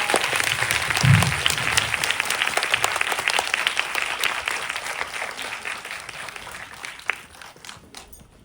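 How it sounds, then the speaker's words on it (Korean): Audience applauds guests after a film screening at the Busan International Film Festival with Tony Leung, steady dense clapping from a large crowd that slowly thins toward the end, with a brief low voice or cheer near the start. "여러분 두 분께 큰 박수 부탁드립니다"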